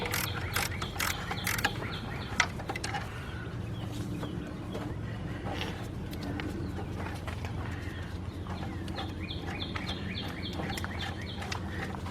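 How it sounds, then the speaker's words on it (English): A ratchet working a 12mm bolt loose on a 1999 Nissan Altima, rapid clicking bursts at first, then quieter mechanical clicks and scrapes, with faint birdsong in the background. "Then I'm going to loosen up this bolt, which is a 12."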